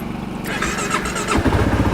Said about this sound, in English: See if the bike will start.